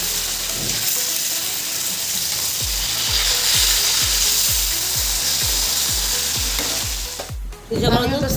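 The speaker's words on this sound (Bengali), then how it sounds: "তো চলো মাছগুলো ভাজা করে নিই" Fish fries in a large wok with a loud, steady sizzle, while a regular series of soft thumps and scrapes from stirring or turning runs through the middle.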